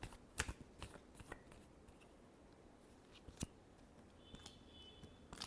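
Tarot cards in a final shuffle give sharp riffling bursts and scattered light ticks, quiet and close, with long hushed gaps between and no talking.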